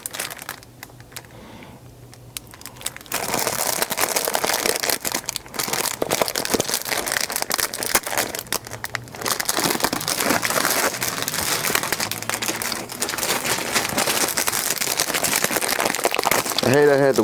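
Gasket packaging for a Suzuki TC185 dirtbike restoration is cut and torn open, a loud, close, continuous crinkling and rustling of plastic after a quieter start.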